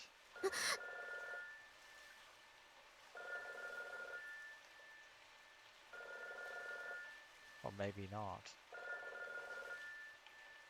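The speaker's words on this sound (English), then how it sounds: "The ringing isn't coming from my Pokécom, it's from the phone downstairs." Telephone downstairs ringing in the visual novel Robotics;Notes Elite: four evenly spaced electronic ring bursts, moderately loud indoors, with a brief voice and a short rustle near the end between rings.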